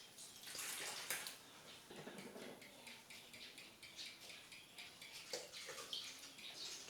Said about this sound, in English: So we will measure the purified water into 1 1/4.